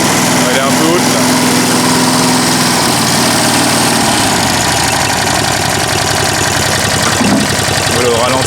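A Wolf PM-Quantum 35 lawn mower engine being restored, idling loudly and steadily up close with a rough knocking buzz, a brief higher tone early on, and someone speaking over it.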